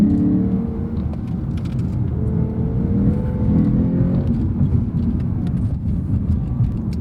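A 2015 Lexus RC F with a naturally aspirated V8 gives a loud, steady engine drone that holds through its whole length, with a faint rising tone.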